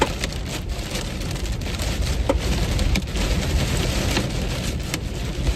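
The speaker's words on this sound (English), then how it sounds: "I'm not seeing any giant hail though, I can't lie to you." Hail and rain from a supercell storm in Nebraska pelting a surface, a dense, steady patter with scattered sharper hard impacts, loud and close throughout.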